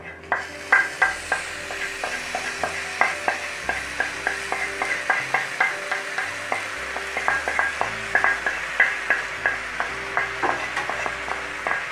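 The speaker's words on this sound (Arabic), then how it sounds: "في المرحلة دي انا هنقلهم خلاص عندي في الحلة بتاعت الرز." Liver and gizzards are stirred into a pot of rice for duck stuffed with rice, giving a steady run of close scraping spoon strokes and soft clinks against the pot, repeating rhythmically under a faint sizzle, with no voices.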